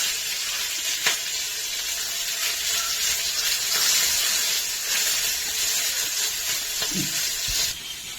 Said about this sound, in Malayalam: വറക്കാൻ വെച്ച സ്രാവിന് ഞാൻ മുളക് പൊടി മഞ്ഞൾപ്പൊടി ഉപ്പ് പൊടി എല്ലാം പരക്കി റെഡിയാക്കി വെച്ചിട്ടുണ്ട് നമുക്കിത് ഇട്ടിട്ട് ഒന്ന് വറുത്തെടുക്കാം